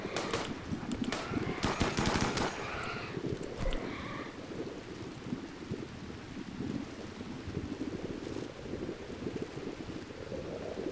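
Rapid bursts of gunfire from a shooting fight in the RimWorld video game, dense crackling volleys early on that settle into a steady rumbling wash of battle noise, with no talk.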